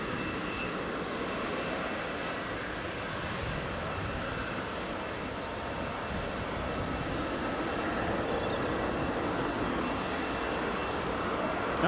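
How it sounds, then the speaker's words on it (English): British Airways Airbus A320 on final approach at Edinburgh Airport, a steady mid-distance engine drone that holds even and moderately loud throughout, with no speech. "British Airways A320 just on final approach now"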